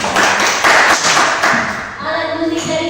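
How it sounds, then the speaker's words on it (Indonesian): A classroom of students claps their hands in quick, rhythmic bursts for about a second and a half, then the applause fades as voices take over. "Tepuk tangan."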